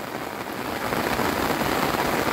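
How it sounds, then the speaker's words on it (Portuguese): Heavy rain falls at the Zabumbão dam after a night-long downpour, a dense, steady hiss of drops on surfaces that swells slightly louder partway through and keeps going without a break. "Muita chuva aqui no momento"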